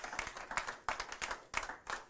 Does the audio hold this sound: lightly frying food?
no